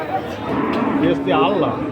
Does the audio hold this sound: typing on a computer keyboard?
no